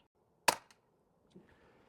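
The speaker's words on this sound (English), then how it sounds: "I'm going to shoot at the top target. Since I'm only using 6 pumps" A Crosman VaporMax pump air rifle charged with 6 pumps fires once, a sharp, fairly close snap with a brief echo, then a faint thud of the pellet striking a target a moment later.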